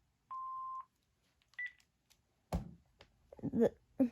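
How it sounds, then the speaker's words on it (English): A single clean answering-machine beep sounds clearly at the start, followed by a shorter tone and then a person talking close to the phone line. "Please leave your name and phone number after the beep."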